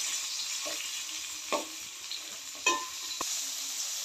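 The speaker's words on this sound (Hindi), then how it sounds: "इसको हम थोड़ा फ्राई करेंगे।" Sliced onions and green chillies frying in a pan, a soft steady sizzle with a few light stirring scrapes and clicks, quiet and close with no talking.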